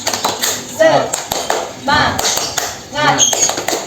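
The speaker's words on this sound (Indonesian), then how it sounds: "kita langsung saja tutup dengan tepuk semangat dulu" Children in a classroom perform a rhythmic spirit clap in sharp patterned bursts, mixed with children's chanting voices.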